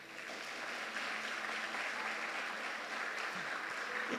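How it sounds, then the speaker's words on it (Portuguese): A church congregation applauds during a worship service, a steady, soft-to-moderate patter of many hands clapping at a distance for several seconds. "aplauda ao Senhor"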